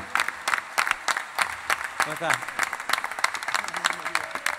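Theatre audience applauding with dense, rhythmic clapping, while a voice speaks briefly over it.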